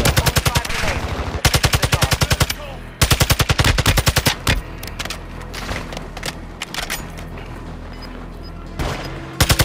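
Rapid bursts of MP5 submachine gun fire in Call of Duty Warzone 2.0, loud and close, coming in several fast automatic strings with short gaps between them, mixed with other gunfire and game sounds.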